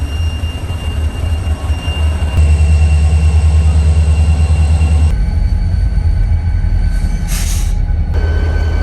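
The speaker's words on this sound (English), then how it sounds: "I think I actually hear one coming now." A train rumbles past close by near a rail bridge in Thurmond, New River Gorge, heavy low wheel noise rising midway, with a brief high squeal near the end.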